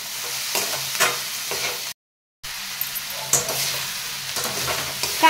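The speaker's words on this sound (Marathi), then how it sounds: "आणि आता हे सुद्धा 2-3 मिनिट आपल्याला परतून घ्यायचं आहे" Onion and tomato sauté in a pan for paneer bhurji, a steady close sizzle broken by stirring scrapes and one brief silent gap, with no voices.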